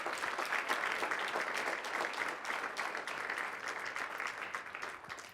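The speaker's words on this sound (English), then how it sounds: "let's give mom and dad and the whole family a round of applause" At a school softball signing ceremony for a McLennan Junior College commit, the audience gives the family a round of applause: full, continuous clapping that stays strong before easing slightly near the end.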